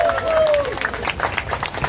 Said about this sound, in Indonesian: Kita tepuk tangan sekali lagi.